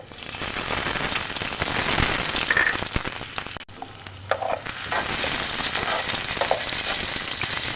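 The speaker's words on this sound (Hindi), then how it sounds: "इसके अंदर से हम ज़ीरा और लहसुन साथ डालेंगे इसके अंदर।" Cumin seeds and garlic frying in very hot oil, a steady loud crackling sizzle with stirring clatter throughout, briefly dipping midway before the spitting resumes.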